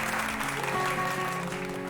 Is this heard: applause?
yes